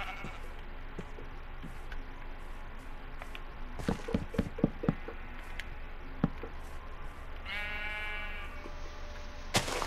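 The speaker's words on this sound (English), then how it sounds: "No, no pink sheep, pink sheep." A pink sheep in a blocky sandbox video game bleats several times in short, quiet calls, with scattered clicks and game effects around them and a sudden loud burst at the very end.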